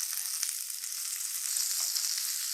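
Okra, shallots and curry leaves fry in a pan, sizzling steadily at a moderate level with a bright, hissing crackle and no pauses.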